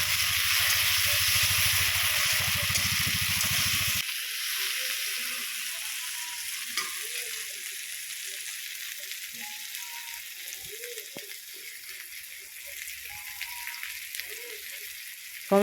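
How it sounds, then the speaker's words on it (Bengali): Tomatoes frying in a pan with onion, ginger and garlic, a steady hiss that drops off partway, followed by quieter sizzling with soft clinks and stirring. "টমেটো দিয়ে খুব সুন্দর করে কষে নিয়েছি"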